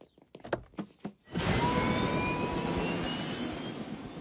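A few sharp knocks and clatters, then a loud steady whirring roar of a helicopter rotor and engine in the Spanish-dubbed cartoon Family Guy, continuing evenly to the end.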